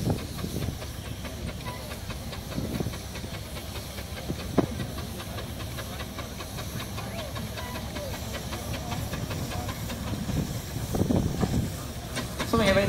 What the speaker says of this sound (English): Something a bit different coming across now is the American steam engine, gearless, fearless.